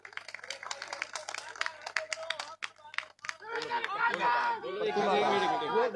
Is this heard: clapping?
yes